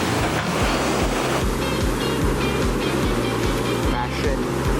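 Ocean surf and waves around a boat while fishing at sea, a loud steady wash of water and wind close by with a rhythmic low pulsing, and people talk over it.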